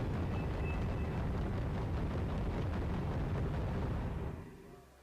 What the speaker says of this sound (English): The artillery comes down, but unfortunately it hits wide going into the forest.